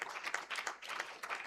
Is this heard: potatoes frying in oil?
no